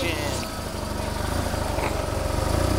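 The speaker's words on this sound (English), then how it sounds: "Motorcycle is cutting in line." A motorcycle engine rumbles steadily nearby with a low, throbbing idle outside Burns Court Cinema at night, mixed with background chatter and crowd noise.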